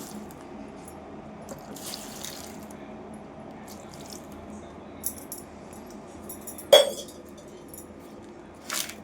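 Buttermilk poured into a container of chillies set in clay for curd chillies, a low watery trickle running steadily with a few sharp clinks of glass or steel, close and quiet with no talking.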